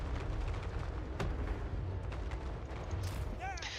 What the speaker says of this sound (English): These fire rain rockets are basically just firework launchers, but for war.